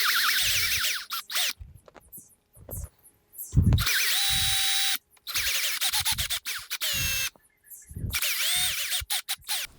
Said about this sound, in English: Then I just take my drill bit with a little bit of tape on it, and that way I can mark it.